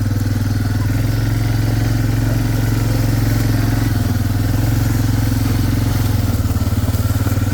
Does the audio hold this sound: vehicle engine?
yes